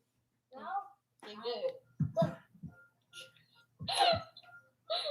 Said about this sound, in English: It's one of those sneezing spells.